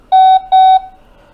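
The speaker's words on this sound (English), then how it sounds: "I heard the beep." Two loud, clean electronic beeps from a Blurams security camera after it scans a QR code during setup, each lasting about a quarter second with a short gap between, followed by quiet.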